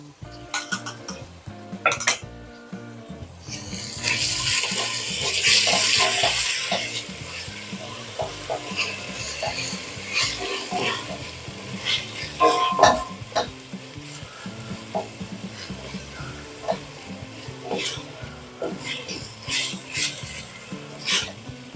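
A spoon stirs tomato into Francesinha sauce in a pan, giving steady scraping and clinking against the metal over a soft sizzle, with sharper knocks now and then. No one speaks.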